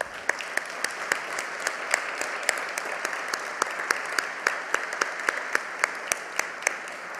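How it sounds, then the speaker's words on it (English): Steady applause from an audience at a Veterans Day event honoring veterans and military families, a continuous bed of clapping with sharp individual claps standing out close by. "Let's give these groups a round of applause"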